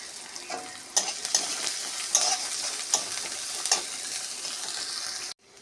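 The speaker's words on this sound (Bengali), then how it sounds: "পেঁয়াজ ভাজা ভাজা হয়ে এসেছে" Onions frying in a pan with kalonji and garlic, a steady close sizzle broken by repeated scraping stirs of a spatula, ending abruptly, no voices.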